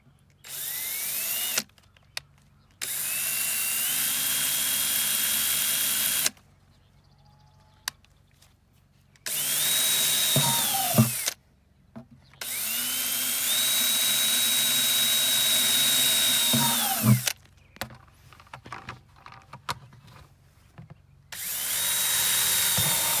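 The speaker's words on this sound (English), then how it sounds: "you need to drill holes in the bottom of your buckets" A power drill with a quarter-inch bit boring holes in the bottom of a plastic bucket: several long steady high whining runs separated by pauses, each ending with a pitch drop as the motor stops, close and loud.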